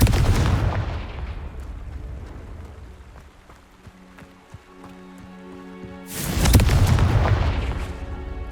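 Confringo fire spell in Hogwarts Legacy, a loud rumbling blast that fades into a low hum with faint ticks, then a second heavy explosive boom erupts near the end.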